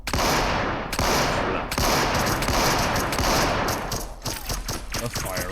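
Rapid bursts of submachine gun fire from a modded Black Ops 3 Zombies game, loud and dense with sharp repeated shots through most of the clip, thinning into scattered individual shots near the end.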